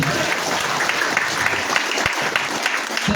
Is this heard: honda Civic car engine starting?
no